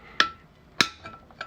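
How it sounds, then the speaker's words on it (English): Hammer strikes a chisel set in a drilled hole during an MG Midget car build, giving two sharp metallic taps about half a second apart, then a few lighter knocks. "I just use a hammer and the chisel in the hole"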